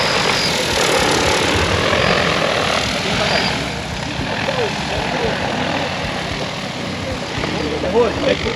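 A drone at an expo in Sertãozinho lifts off and flies, a steady loud whirring buzz of propellers filling the scene alongside crowd chatter and voices.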